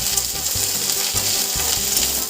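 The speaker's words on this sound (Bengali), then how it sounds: "এবার এর মধ্যে দিয়ে দেব কারি পাতাগুলো। এগুলো একটু নাড়াচাড়া করে নেব তেলের মধ্যে।" Curry leaves crackling in hot oil while being stirred, a dense loud sizzle with rhythmic scraping strokes of a spoon in the pan, no talking.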